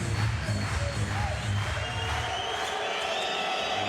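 A basketball arena crowd at Anwil Wloclawek v Telenet Giants Antwerp in the Basketball Champions League roars and cheers, a loud, continuous wall of voices that stays full throughout.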